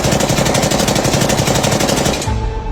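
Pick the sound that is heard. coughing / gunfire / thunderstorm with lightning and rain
gunfire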